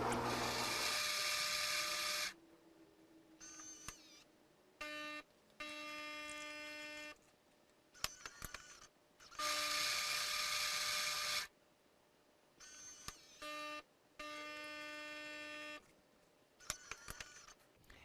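A Gaggia Cadorna espresso machine grinding coffee beans, with loud bursts of whining grinder noise that start and stop, alternating with quieter buzzing and mechanical clicks.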